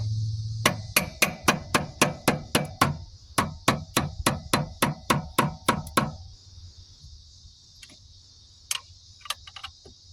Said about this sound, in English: We'll get in here with our mallet and we'll just smack that off of there.